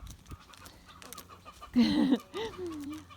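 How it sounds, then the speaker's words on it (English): A rooster gives a short burst of loud clucking and crowing calls, close by, standing out above quiet background noise. "These little roosters, they're unbelievable."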